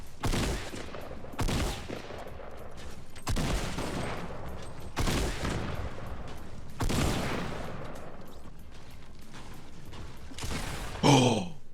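Shotgun blasts and gunfire in Fortnite, a series of about five loud, sharp shots spaced a couple of seconds apart, each with a short decay, ending in a final burst.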